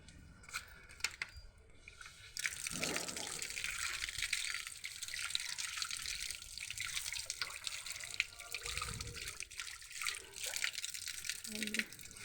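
Water runs steadily from a tap while clothes are washed by hand, a close continuous hiss broken by a few splashes and sloshes, with a short voice heard early on.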